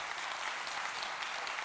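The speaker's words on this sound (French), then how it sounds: "Vous pouvez applaudir les collègues." An audience applauding colleagues after testimonies: steady, dense clapping from a room full of people, even in level throughout.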